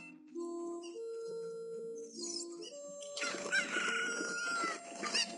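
Chickens in Kakariko Village in The Legend of Zelda: Ocarina of Time, clucking and crowing over a melodic game tune, growing louder and busier toward the end; no talking.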